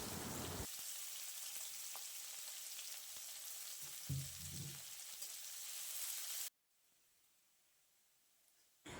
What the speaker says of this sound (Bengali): পেঁয়াজ লঙ্কা আমি এখন খুব ভালোভাবে লাল লাল করে ভেজে নেব।